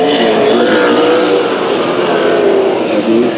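Race cars roar together through a speedway heat race, a dense, loud, unbroken engine drone with shifting revving pitches and no voices over it.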